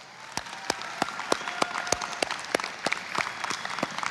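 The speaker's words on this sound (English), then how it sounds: "if we could give the Lanier Tech faculty and staff a round of applause" Audience at a college commencement ceremony gives a round of applause, sparse distinct claps with a softer crowd patter beneath, moderately distant and steady for a few seconds.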